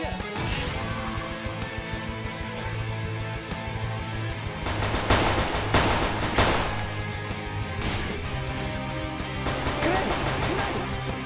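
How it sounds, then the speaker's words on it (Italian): A flashbang grenade goes off in a battlefield war game, amid rapid gunfire and loud blasts that come in bursts over a continuous background of shooting, with voices shouting in between. "Flashbang!"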